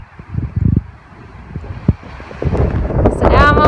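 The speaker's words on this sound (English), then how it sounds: "Very windy." Strong wind on a mountain trail near a lodge buffets the microphone in loud, rough gusts that build toward the end, with brief speech early on.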